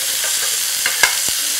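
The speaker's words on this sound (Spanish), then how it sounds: "En la misma sartén o en la misma olla ponemos las papitas miniatura que están crudas" Raw mini potatoes tumble into a pan of sautéed chicken over a continuous loud sizzle, with a few brief knocks and clatters as they land.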